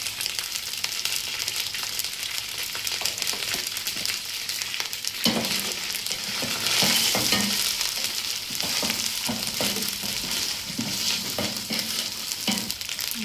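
Green chillies and curry leaves fry in oil for an Andhra-style chicken masala fry, giving a dense, constant crackling sizzle with intermittent clatters of stirring throughout.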